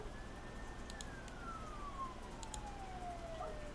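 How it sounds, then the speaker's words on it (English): A police-style siren wails outside the house, a single long tone sliding slowly downward, faint and distant beneath a low indoor room hum. "There's a siren blaring outside."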